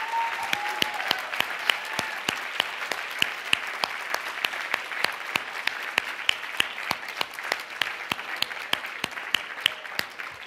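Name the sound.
audience applause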